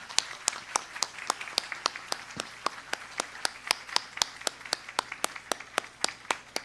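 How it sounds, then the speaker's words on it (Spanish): Audience clapping for a director's birthday at a gathering before lunch: steady, evenly spaced claps at a moderate level, almost like a slow rhythmic clap, continuing throughout. "les agradecería un aplauso muy caluroso para la directora Isabel Cristina Araya"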